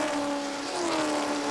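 Auscar race cars run side by side through a corner onto the main straight at Yella Terra raceway, engines holding a loud, steady droning whine with shifting pitch as they pass.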